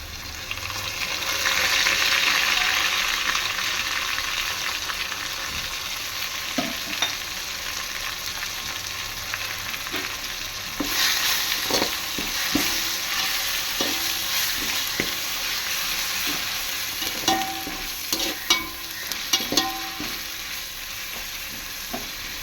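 Green chillies and ginger garlic paste frying in oil for chicken biryani: a constant hissing sizzle close by, rising at one point, with scattered spoon scrapes and taps as the mix is stirred.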